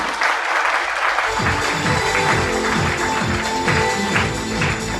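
A seminar audience applauds loudly, a dense wash of clapping from many hands, while a deep rhythmic music beat thumps underneath through most of the stretch.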